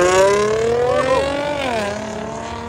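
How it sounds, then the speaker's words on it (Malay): A six-cylinder car passes close by at night in Kuantan, its engine giving a loud, steady harmonic drone that rises and then drops in pitch as it goes past. "Itu bunyi silinder 6 silinder geng."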